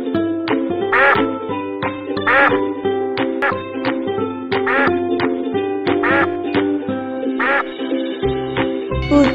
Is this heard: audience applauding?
no